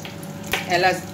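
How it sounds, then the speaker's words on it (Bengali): Whole garam masala spices (cloves, cinnamon and cardamom) sizzle briefly in a small amount of hot oil, a short soft crackle swelling near the end. "এখানে গোটা গরম মশলা দিয়ে দিলাম, যা যা লাগে, লবঙ্গ, দারচিনি"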